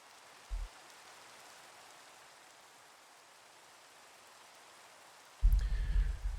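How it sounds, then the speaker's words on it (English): Steady rain falls in a Minecraft world, a soft continuous hiss of even density throughout, broken by a brief low thump near the start and a louder rumbling burst at the end. "Guess I can sleep and get rid of the rain."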